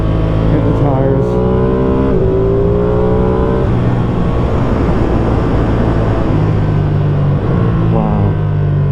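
A motorcycle rides a Swiss mountain pass road, the engine droning loud and steady with rising and falling pitch through gear changes, mixed with heavy wind rush and a faint voice.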